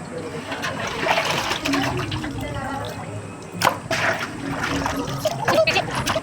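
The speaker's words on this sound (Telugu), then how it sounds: "ఫైనల్గా నేను కూడా ఒకసారి వాటర్లో పెట్టి శుభ్రంగా క్లీన్ చేసుకొని గిన్నెలో అయితే తీసేసాను" Cut fish being washed by hand in water, with continuous splashing, trickling and sloshing close by and a few sharper knocks, while people talk over it.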